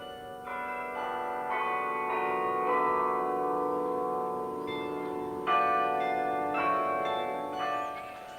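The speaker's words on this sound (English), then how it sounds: "from Aspen Island, the bells of the striking carillon ring out across the city" Carillon bells on Aspen Island in Canberra ring out across the city in a slow, resonant sequence of overlapping pealing tones, moderately loud and sustained with no voices.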